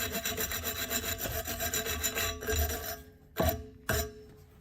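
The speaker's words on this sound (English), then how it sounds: "what I'll do real quick is wire brush it where it's getting weird over the years right here" Wire brush scrubbing the weathered, torch-heated metal of a 2011–2012 Ford F-150 3.5L EcoBoost electric brake vacuum pump part, a continuous raspy rubbing that drops out near the end, followed by two short, sharp scraping strokes.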